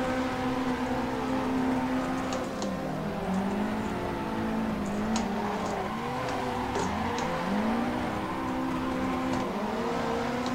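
Simulated cars drift in tandem on the Ebisu Touge course in Assetto Corsa, with engines revving and tires squealing continuously as they swing through corners, the engine pitch rising and falling throughout.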